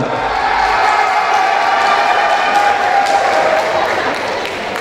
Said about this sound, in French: Applaudissements pour la candidate numéro 11